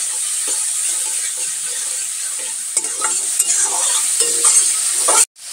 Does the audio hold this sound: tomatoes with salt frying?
yes